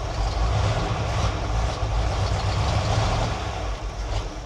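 An old Ford truck that sat for years on a farm, crawling in four-low, gives a steady, loud, rough engine drone that bogs down under throttle instead of picking up.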